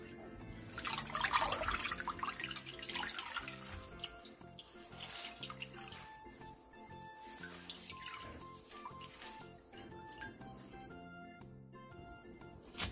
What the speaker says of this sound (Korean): 데친 미나리는 바로 찬물에 헹군 뒤 물기를 꼭 짜주세요.